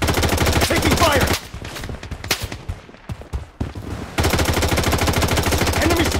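Automatic rifle fire in the PC shooter Blood Strike: steady rapid bursts up close, a pause filled with scattered single shots and quieter game sounds, then another long sustained burst.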